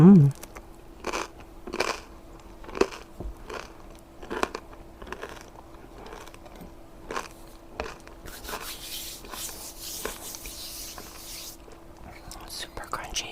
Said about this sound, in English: That is a crunchy crust.